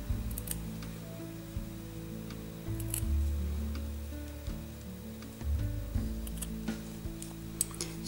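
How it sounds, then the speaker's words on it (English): Scissors snip through the base of a bead embroidery ring, a few short, close crisp cuts alone in a quiet room. "I'm gonna cut off a little bit of this as well"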